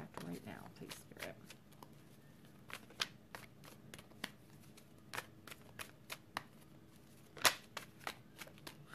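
Tarot cards being shuffled by hand, producing a series of crisp, irregular riffling snaps and soft slides, close and quiet, with a few sharper clicks scattered across the span.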